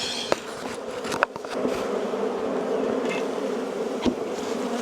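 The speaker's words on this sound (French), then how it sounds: "au milieu des abeilles qui ne sont pas du tout contentes" Angry honeybees swarm around an open hive during a May honey harvest, a dense continuous buzz close to the microphone with a few sharp clicks and knocks from handling the hive.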